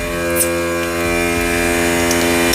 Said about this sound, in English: This pump is slow.